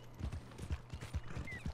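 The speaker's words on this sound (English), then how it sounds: "Come on, get on the horse." A horse's hooves clip-clop in the video game Red Dead Redemption II, a steady walking rhythm of roughly a dozen close, distinct hoof falls over a low background hum.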